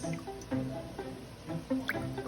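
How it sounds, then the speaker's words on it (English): Water poured from a quarter-cup measure into a bowl while preparing a meat pie filling, heard as soft close dripping and splashing in short bursts. "I'm gonna measure like 2 quarter cups of water in the bowl"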